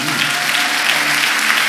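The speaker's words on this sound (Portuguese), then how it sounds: "Aplauda o Senhor" A church congregation applauds during a worship service, a close, steady roar of many hands clapping together that carries on without a break.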